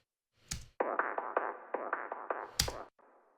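Kick drum fed through an Eventide TimeFactor filter pong delay with EQ, chopped and retimed: a rapid run of about a dozen bright, filtered echoing pulses between two heavier broadband hits, ending in a softer tail.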